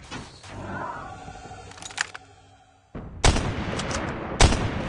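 Gunfire in the COD Mobile shooter game, with a burst of shots early on and loud, sharp reports after a brief lull, including two heavy cracks that fit sniper fire. There is no speech.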